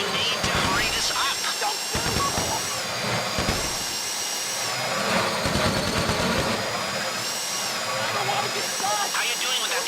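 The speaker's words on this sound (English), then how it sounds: "How you doing with that drill?" A heist drill bores into a bank vault in GTA V, a steady grinding whine running throughout with game music and voices talking over it.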